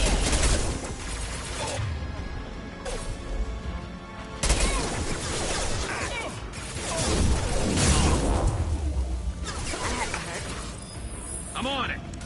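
Grenade blasts and gunfire in Mass Effect 2 combat: booming explosions and rattling shots with whooshes, loud and continuous, while characters call out over the fighting.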